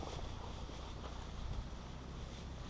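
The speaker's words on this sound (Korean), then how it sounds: "바람." Wind sweeps across the open sand of the Taklamakan Desert, a steady broadband rush buffeting the microphone with no breaks and no voices.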